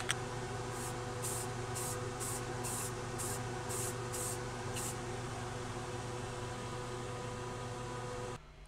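Clear coat sprayed from a spray can onto a painted R2-D2 dome, about eight short hissing bursts in a quick regular rhythm, close and fairly loud over a steady background hum, then quiet.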